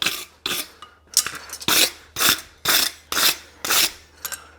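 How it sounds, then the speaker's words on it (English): A rasp files the surfaces of a hand-forged caulk and feather horseshoe in eight or nine loud, rhythmic strokes, each a harsh scraping burst, close up with no talking. "I'm going to rasp all the surfaces anyway"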